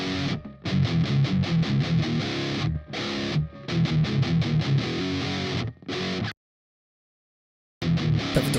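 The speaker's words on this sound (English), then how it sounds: "One is an Engel Fireball model, which sounds a bit like this." Heavily distorted rhythm guitar from an Engl Fireball amp model on a Pod HD500 chugs through tight palm-muted riffs with short stops, loud and close, cutting to total silence before resuming briefly.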